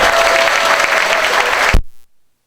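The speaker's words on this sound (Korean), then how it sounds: "큰 박수 부탁드립니다." Audience applause at a green medicine seminar, a dense wash of many hands clapping loudly and steadily, then stopping abruptly with a brief fade into silence.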